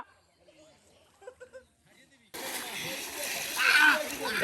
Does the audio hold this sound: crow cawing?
no